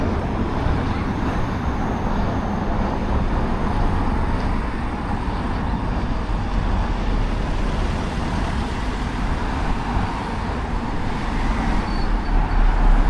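Steady, dense road traffic on Ecclesall Road, a busy arterial route through a Sheffield shopping area, with a continuous rumble of passing cars and heavier vehicles close by, no voices.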